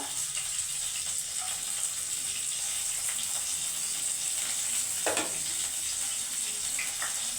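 Garam masala spices sizzle in hot oil in a pan while a Bengali bhetki fish curry is cooked. The frying is steady and close, with a few stirring scrapes mixed in.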